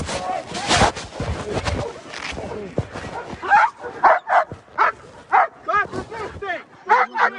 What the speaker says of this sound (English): Wait for the dog barking in his face.